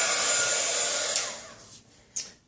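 A handheld heat tool blows hot air to warm powder for a craft project, a loud close whooshing hiss that cuts off partway through, followed by a brief second burst.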